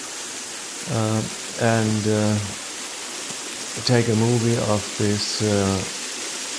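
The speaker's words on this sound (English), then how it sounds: "there is this waterfall down in a canyon" A waterfall in a canyon near Lake Como, Italy, sends a steady broadband rush of falling water through the whole clip, with someone talking over it in several bursts.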